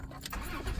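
A 1997 Dodge Caravan LE, just rebuilt with new rod and main bearings, cranks and catches, its engine starting with a brief loud churn that settles toward a rough idle up close.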